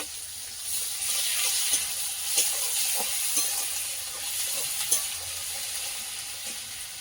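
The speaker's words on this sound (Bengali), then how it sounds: "লবণ আর হলুদটা দিয়ে মশলাটা ভাজবো" A spice paste of ginger-garlic paste, cumin and bay leaf, with salt and turmeric added, sizzles in a pan over a fire. A soft, even hiss runs throughout, broken by a few light stirring clicks and taps. No one speaks.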